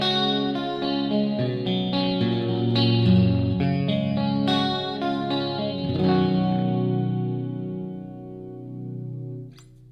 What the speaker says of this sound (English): There's the Steel Panther Platinum Pocket Melter Distortion pedal.